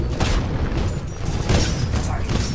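Rockets slamming into a titan in the Titanfall 2 multiplayer video game, a rapid run of loud, close booms and mechanical bursts forming a steady barrage.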